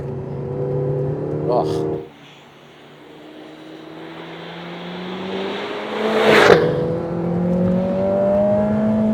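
Lotus Emira turbo sports car on a track, its engine note rising steadily as it accelerates, with a loud surge of wind and road roar midway and a voice talking over it.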